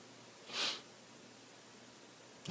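A single short, sharp nasal sniff from a person with a sinus problem, close and fairly quiet, followed by near silence.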